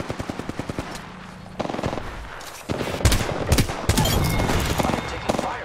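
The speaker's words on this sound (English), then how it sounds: "I'm taking fire, friends." Rapid automatic gunfire erupts in the battle royale game Apex Legends, with clipped bursts of shots, then denser overlapping volleys that grow louder and more continuous.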